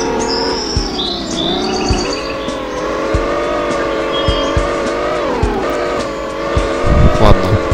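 An offroad jeep in a driving simulator game revs steadily off the road, its engine drone rising and falling with faint bumps and bird chirps overhead, the whole sound continuous and fairly loud.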